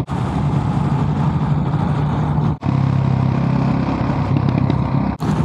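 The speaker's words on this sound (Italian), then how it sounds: "la pula è in moto" Steady, loud engine drone as a police motorcycle goes by on the Grimsel Pass, heard from a nearby vehicle, continuous with two brief dropouts and no talk.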